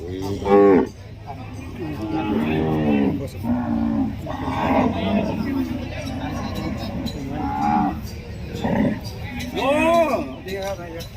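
Cattle mooing repeatedly at a cattle and buffalo market in Yasothon, Thailand, several calls near and loud, mixed with a steady crowd murmur and people talking nearby.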